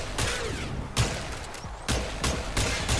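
Burst fire from the Quatz sidearm in Warframe, sharp gunshot clusters arriving in three or four evenly spaced bursts, loud and close with no talk over them.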